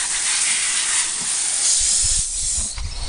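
A water hose sprays steadily, a loud continuous hiss with some low rumbling thumps toward the end.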